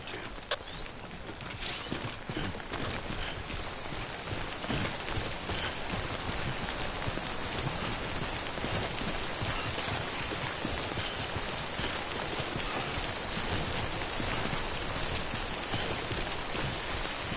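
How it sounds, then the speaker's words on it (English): Steady rain, the timefall of the video game Death Stranding, patters densely and continuously on surfaces close by, with faint mechanical clicks early on. "Don't stay out in the rain any longer than you have to."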